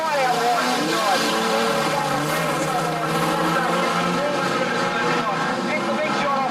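Street stock race cars roar around Gunnedah Speedway's dirt oval in a heat race, a dense continuous engine drone with rising and falling revs as the pack passes, a commentator talking over it.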